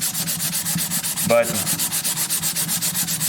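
Steady back-and-forth sanding with 400-grit sandpaper on the finish of a custom guitar, its rhythmic rubbing strokes loud and close, briefly interrupted by a single spoken word.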